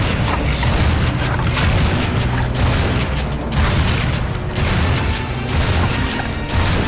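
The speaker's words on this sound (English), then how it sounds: "It can eat my grenades." Grenades explode in the sci-fi shooter Lost Planet 3 as repeated heavy booms and crashes, packed tightly into a loud, continuous roar of combat noise without speech.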